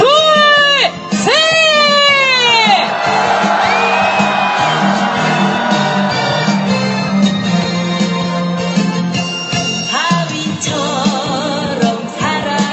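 A crowd at a Wednesday rally in Korea protesting the comfort women agreement lets out rising whoops, then swells into a loud, unified roar of shouting voices. The roar holds for several seconds, and scattered cheers break through near the end.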